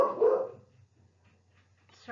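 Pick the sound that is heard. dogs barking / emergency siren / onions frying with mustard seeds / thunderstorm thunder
dogs barking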